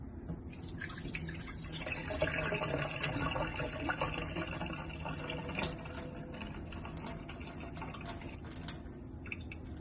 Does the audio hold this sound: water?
yes